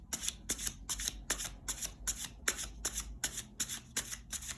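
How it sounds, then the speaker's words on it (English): Tarot cards are shuffled by hand in a quick, even rhythm of about a dozen close, crisp riffles, with no one speaking. "And I will be drawing cards."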